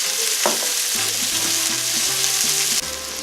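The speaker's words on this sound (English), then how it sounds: "And we're going to saute these together." Produce sautéing in bacon grease sizzles steadily and loudly, with a string of spoon scrapes and stirring knocks across the pan and no talking.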